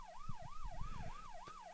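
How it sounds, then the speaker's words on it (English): An emergency siren wailing in a regular rising and falling pattern, somewhat distant, with low rumbling traffic beneath it. "the growing sound of sirens in the distance"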